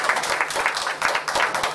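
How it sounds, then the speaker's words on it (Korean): Church congregation clapping during a Sunday worship service, a short steady burst of many hands at moderate volume, with no voices over it. "우리 박수 한번 치겠습니다."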